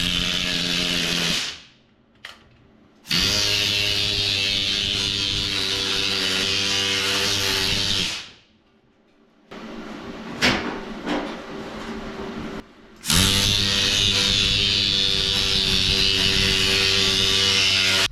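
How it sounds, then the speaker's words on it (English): A bead roller fitted with a fence presses a bead along sheet metal for the trunk lid of a 1937 Cabriolet custom: a loud, steady mechanical drone in long runs, broken by short silent pauses. "after that we throw it in the bead roller with the fence on here to get the bead that goes along the trunk lid"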